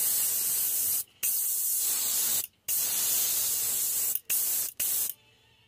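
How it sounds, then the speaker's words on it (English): An airbrush sprays Golden High Flow titanium white acrylic paint in four steady hissing bursts of about a second each, separated by brief pauses, loud and close, with no talking. "going to load this airbrush, and we're going to spray these white again"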